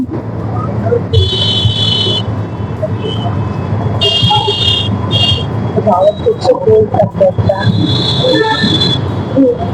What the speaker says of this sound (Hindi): जाम लग गया है देखिए।